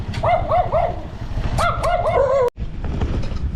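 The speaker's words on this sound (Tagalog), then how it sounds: "Aso na lang pala nandito." A dog barks in a quick run of sharp yips, then a second burst of several barks, close by on a farm, with a brief silence near the end.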